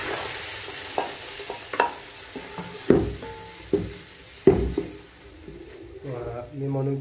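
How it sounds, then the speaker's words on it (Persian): Grated onion frying in oil, a soft sizzle under repeated sharp stirring knocks and scrapes against the pan, with a voice speaking near the end. "پیازی رنده شده را در روغن میندازیم."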